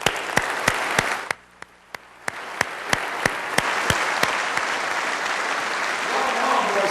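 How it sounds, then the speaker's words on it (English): Audience applause at a state address, a dense burst of clapping that rises and holds steady, with a few louder close claps standing out, with no talk over it. "we all owe them a round of applause"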